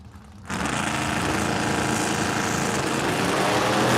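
Drag racing cars sit idling at the starting line at Cordova Dragway on Independence Day, among them a GMC Sonoma and a split-bumper Camaro; a loud, steady engine rumble swells in after half a second and holds to the end.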